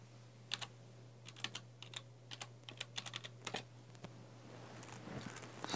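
Keys on a computer keyboard tapped in short irregular bursts, a password typed at a login screen on an older Intel Celeron PC running Windows 8.1, with a steady low hum underneath and no talking.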